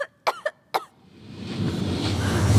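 Three sharp, close coughs in quick succession from a person on a horror film set, followed by a swelling wash of broadband noise that fills the rest of the moment.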